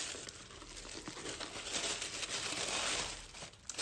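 Tissue paper crinkles and rustles steadily for several seconds while a savings challenge box is unwrapped, close and fairly loud, with no talking.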